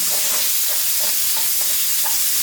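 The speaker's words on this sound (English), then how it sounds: "Then I'm gonna add the garlic to the pot, followed by the bell pepper." Garlic and bell pepper sizzle loudly in a hot wok for fried rice, a continuous crackling hiss broken by quick rhythmic scrapes of stirring.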